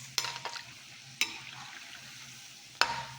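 Homemade donuts fry in oil with a quiet bubbling sizzle, punctuated by three sharp clatters of a utensil against the pan, close and without speech.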